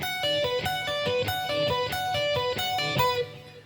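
An electric guitar plays a quick, even run of repeated pull-off triplets, each three-note group clearly articulated in a steady rhythm.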